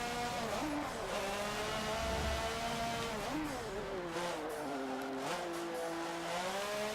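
A race car spins out in Forza Motorsport 7, its engine droning steadily with pitch dips and swoops as revs shift, plus faint tire scrubbing, moderately loud and continuous with no talking.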